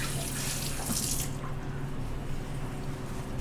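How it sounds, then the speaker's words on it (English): Warm tap water runs steadily into a kitchen sink while hands are washed, a continuous close splashing flow with a brighter burst of splatter early on, then settling into an even rush. "you might as well just wash your hands"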